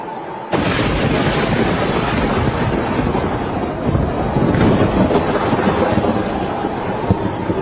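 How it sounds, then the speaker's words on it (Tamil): A deep, heavy roar of thunder during a cloudburst bursts in suddenly and rumbles on steadily, swelling again toward the end, loud and continuous. "மிரள வைக்கும் மின்னல் காட்சிகளும் பேரிடியின் சத்தங்களும்"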